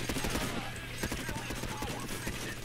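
Gunfire in PayDay as players shoot at police: rapid bursts of shots rattle over continuous game noise, fairly quiet and dense throughout.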